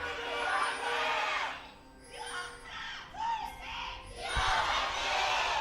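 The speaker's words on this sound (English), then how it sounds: "audience there cheering them on with everything that they can possibly muster into their voices" A League of Legends esports crowd at an LCK Spring 2018 match between MVP and SK Telecom T1 cheers and shouts with full voice. The dense, loud roar swells and dips in waves throughout, without pause.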